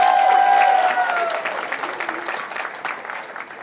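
Audience at a birthday celebration for an older woman bursts into loud applause that starts strong and gradually thins and fades over a few seconds, with faint voices mixed in.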